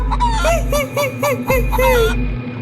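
Cartoon chickens in a Bengali ghost animation give a run of repeated honking, clucking calls in a steady rhythm, loud and close over a low droning background hum.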